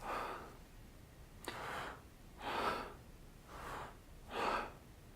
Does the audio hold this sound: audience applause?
no